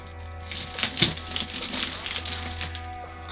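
A blade slices through a cardboard sneaker box during an Adidas Yeezy 700 V2 Cream unboxing, making close, quiet scratchy tearing and crinkling with a few sharper snaps in an irregular rhythm.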